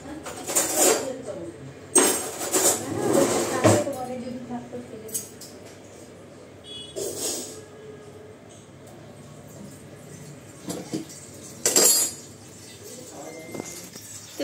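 Steel spoons and dishes clink and clatter close by in a home kitchen, with bursts of metallic jangling separated by quieter pauses. Someone talks between and over the clatter.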